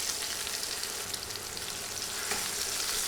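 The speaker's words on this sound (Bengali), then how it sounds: "নেড়ে সব কিছু বাদামি করে ভেজে নিচ্ছি।" Onion and garlic frying with cumin and fenugreek for a beef trotter nihari tempering, a soft, steady sizzle with faint stirring scrapes throughout.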